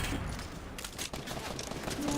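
Gunfire in the Fortnite video game, a dense, continuous fusillade of rapid shots that fills the whole stretch at steady loudness, with game noise around it.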